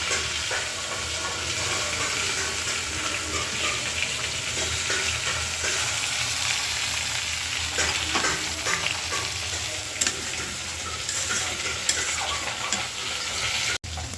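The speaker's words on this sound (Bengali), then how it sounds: "আর এখানে এই যে আমার মাছগুলো প্রায় ভাজা হয়ে গেছে" Fish pieces frying in oil in a pan, with a steady, close, continuous sizzle and hiss that runs unbroken throughout, joined near the end by a brief clatter.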